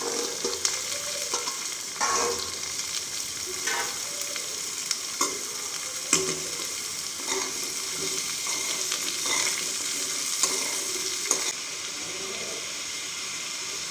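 Chopped mango with green chillies and curry leaves frying in a pan for a quick spicy mango pickle, with a steady close sizzle and scattered stirring clinks throughout.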